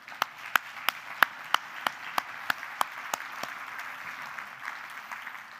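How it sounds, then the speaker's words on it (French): Applause at a 2016 annual general assembly: sharp individual claps stand out over a steady crowd clapping bed, tapering off toward the end with no voices. "Je pense qu'ils méritent une bonne main d'applaudissement."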